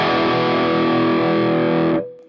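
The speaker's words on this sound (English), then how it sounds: "Let's do the Tangerine 4x12. This is going to have more of a scoop sound, I think." Distorted electric guitar played through a Headrush Tangerine 4x12 cabinet simulation with a 57-style mic, a thick sustained chord ringing loud and steady for about two seconds before cutting off abruptly.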